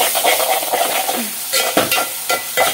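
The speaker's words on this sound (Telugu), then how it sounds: "ఉల్లిపాయలు చక్కగా మగ్గుతున్నాయి అనమాట, ఇవి మనం మగ్గనిద్దాము" Onions fry loudly in a pan for a biryani dinner, a steady close sizzle broken by repeated scraping stirs of a spoon against the pan, with no talking.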